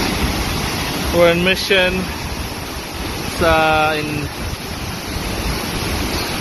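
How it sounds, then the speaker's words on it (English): Cascade Falls waterfall in Mission, near Vancouver, a steady broadband rush of falling water running throughout, with people talking over it. "So, this is the falls."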